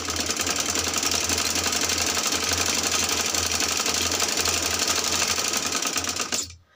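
A sewing machine runs steadily, stitching along an existing seam on trouser fabric with pintucks. The rapid mechanical rattle is loud and close, continuing without pause until it stops abruptly at the end.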